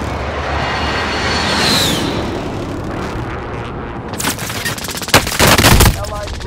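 Call of Duty: Modern Warfare gunfire: a steady roar of distant shooting gives way to loud, close bursts of rapid shots near the end, with no talk.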